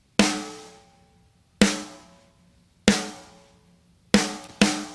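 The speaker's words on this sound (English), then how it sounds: "It's just a really raw and dry snare drum sound like this." Four dry snare drum hits from Superior Drummer, raw with no reverb, each a sharp crack with a short natural decay, spaced about a second and a bit apart, the last two closer together, no voices.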